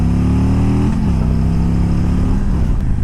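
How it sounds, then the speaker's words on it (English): A 2017 Harley-Davidson Road King motorcycle engine rumbles loud and close, its deep V-twin note holding steady, then dropping and shifting pitch as the rider works the revs. "Yeah, when you get those revs up, they do sound nice."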